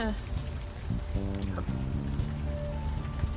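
Steady rain patters in the Unavowed video game, a soft, even hiss that runs the whole way, low in level beneath a murmuring voice and faint tonal music.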